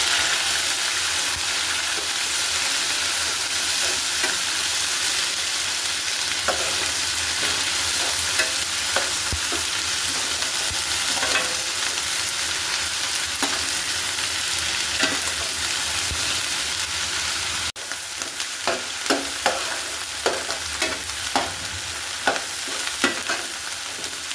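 Beef pieces for a pickle fry loudly in oil, probably with panch phoron spices, giving a dense, constant sizzle with frequent close stirring scrapes that grow sharper and more rhythmic toward the end. No one speaks.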